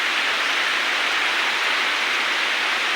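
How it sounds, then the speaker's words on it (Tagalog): Heavy rain pouring down at a rural farm roadside: a dense, steady roar of broadband hiss that holds constant without a break, loud and close. "Grabe ang ulan no."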